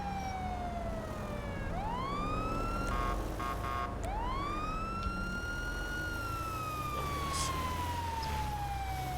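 A vehicle siren wails in long rising and falling sweeps in a GTA roleplay, loud and close, with a short burst of quick yelping tones midway over a steady engine and road rumble.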